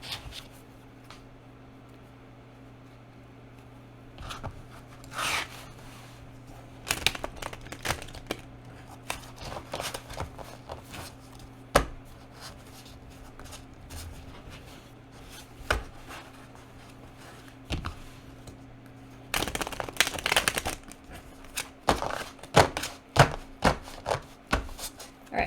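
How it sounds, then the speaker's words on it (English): Tarot cards are shuffled in bursts of crisp riffling and tapping against a soft surface, close by, with quiet pauses between rounds over a low steady hum. "Oh wait, let me shuffle actually."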